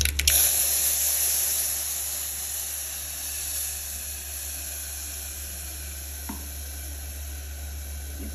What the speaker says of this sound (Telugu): చింతపండు రసం వేస్తున్నాను.